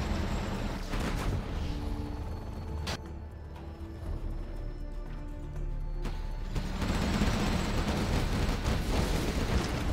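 Artillery fire in a large tank battle game, a sharp blast near three seconds and another around six, set within a dense rumble of distant explosions and gunfire that swells toward the end.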